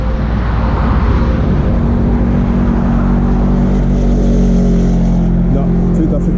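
Cars and a lorry passing on a roadside in Scotland, a steady loud traffic rumble with engines droning close by throughout, under occasional talk.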